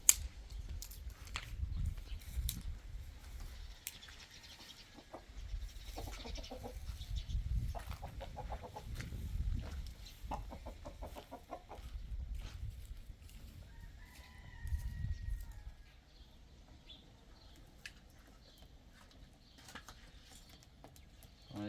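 Hens cluck repeatedly in a farmyard, a steady scatter of soft near and mid-distance clucks with a few louder calls, fading toward the end.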